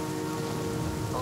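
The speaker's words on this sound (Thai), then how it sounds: "โอ้ฝนตกแล้ว" Steady rain pours down in The Flame in the Flood, a dense, even hiss of drops drumming on surfaces, close and continuous with no voices.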